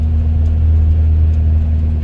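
A camper van engine pulling steadily in second gear up a mountain road in the Pyrenees, a loud, constant low drone with no change in pitch and no talking.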